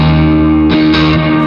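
Electric guitar through a Jackson Audio Prism pedal set to high-gain overdrive distortion on the amp mode, a loud sustained saturated chord with a fresh attack partway through, up close with no talking.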